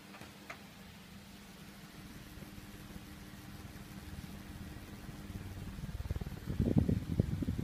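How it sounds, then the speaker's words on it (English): An electric fan runs in a room with a soft, steady whirring hum that grows gradually louder, rising to a rougher, fluttering rumble toward the end. "It's good fan."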